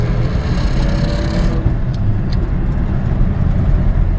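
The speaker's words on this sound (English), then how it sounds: "I just wanted to show you real quick just how nice and smooth it drives." Steady engine rumble of a 1955 Chevrolet 3100 pickup truck driving, low and constant from inside the cab, with road noise and a brief hiss near the start.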